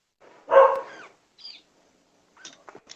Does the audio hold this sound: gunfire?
no